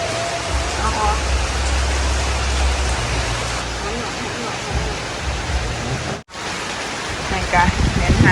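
Heavy rain falls steadily and loudly in a constant dense hiss with a low rumble underneath, continuous throughout apart from one brief dropout near the end.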